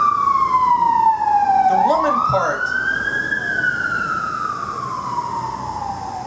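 Emergency vehicle sirens wailing as they pass, the tone sweeping down then climbing and fading steadily, heard outdoors from a poetry open-mic venue while a voice speaks briefly over them.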